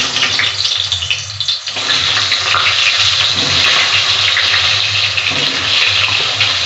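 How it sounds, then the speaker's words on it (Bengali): Pieces of pointed gourd fry in a pan of hot oil, a loud continuous hissing sizzle close up that holds steady throughout without talk. "এবার আমি পটলটা ভেজে নিচ্ছি।"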